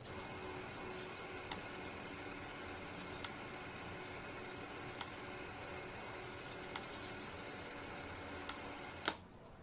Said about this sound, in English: you're out in the field shooting with your Bolex H-16 and it has that annoying clicking sound